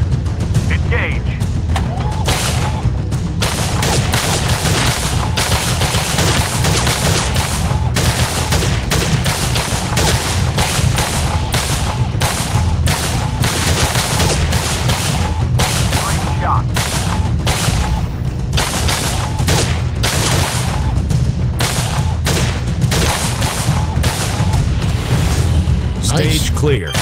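Rapid, continuous SMG gunfire in the VR shooting game Gun Club VR, loud and sustained bursts with booming impacts filling the whole stretch, with a voice talking over it.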